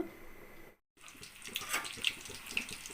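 Masala-marinated fish deep frying in hot oil: a steady, bright sizzling hiss with scattered crackles and pops, rising again after a brief moment of silence.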